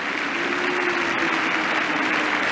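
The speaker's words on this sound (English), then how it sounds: "Crowd getting involved." Spectators at an England vs New Zealand Test cricket match in 2022 clapping steadily, a dense, continuous roar of applause from a large crowd, loud and unbroken.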